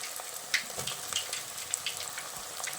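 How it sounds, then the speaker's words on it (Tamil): Onion and tomato sauté in oil in a pan for an okra tamarind curry, giving a soft, steady sizzle with small crackles and pops close by, and no one talks. "இது நல்லா வதங்கட்டும் பாருங்கள் நல்லா வதங்கி வந்துட்டுருக்கு"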